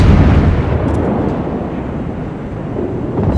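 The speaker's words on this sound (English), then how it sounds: "now they're trying to blind fire at us" Naval gunfire and shell explosions in the World of Warships video game, a dense, continuous rumbling barrage of booms that stays loud throughout.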